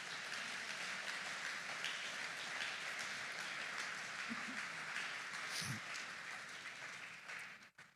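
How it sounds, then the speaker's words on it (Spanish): Congregation applauding for Jesus during a church service, a steady dense wash of clapping that holds for most of the stretch before thinning out near the end. "Denle un aplauso a Jesús."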